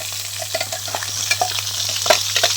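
Hot oil sizzles loudly in a pan while mutton curry is prepared in a village style, with a steady close fry hiss, scattered crackles and pops, and a few stirring scrapes, with no voices.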